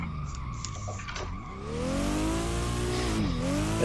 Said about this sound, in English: Bit of handbrake to extend the drift out.